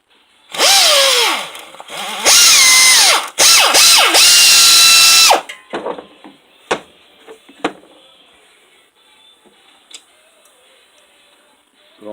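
An air-powered ratchet spins a socket on an alternator bolt in three loud, close whirring bursts, followed by scattered metallic clicks and taps as the tool is worked.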